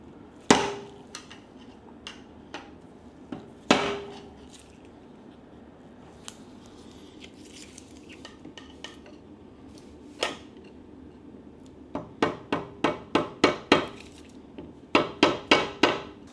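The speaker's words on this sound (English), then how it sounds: "they put a chisel at the top. And again, this is rubber mallet, this isn't good for this, but they usually just give it a nice whack" A rubber mallet strikes a chisel set against a stuck woodruff key on a Yamaha 200 HPDI outboard during water pump repair, giving sharp isolated knocks early on, then a quick series of evenly spaced taps near the end.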